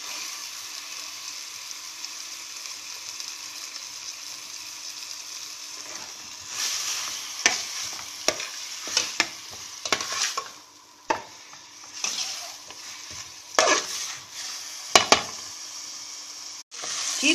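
Chicken fries in butter with a faint, steady sizzle, then a spoon stirs and scrapes the pan in a series of sharp, irregular clatters over the continuing hiss.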